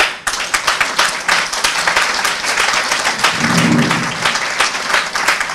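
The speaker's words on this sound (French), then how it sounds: "l'honneur est pour moi de vous demander de bien vouloir applaudir" Audience applause for a minister at a women's leadership awards ceremony in Côte d'Ivoire, dense sustained clapping from a large crowd lasting throughout, steady and close with no speech over it.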